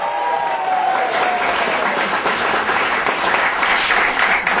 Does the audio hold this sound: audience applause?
yes